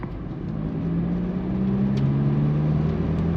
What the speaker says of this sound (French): à 3000 tours, j'avoue, le bruit commence à devenir un peu présent